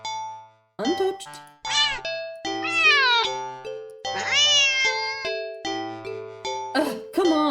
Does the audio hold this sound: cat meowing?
yes